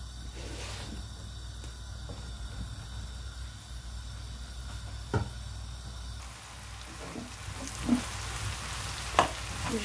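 Onions and aubergines fry in oil in a pan with a steady, close hiss and crackle, broken by a few soft stirring knocks.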